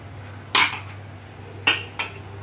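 Four sharp metallic clinks of a utensil against a pot while stirring ingredients for cooking river fish, two close pairs separated by a pause, over a steady low hum.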